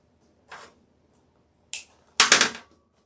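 Three quick zip-tie ratcheting bursts while fastening deco mesh for a fall pumpkin wreath, a short zip, a sharper one, then a longer rattling pull, close and crisp against silence.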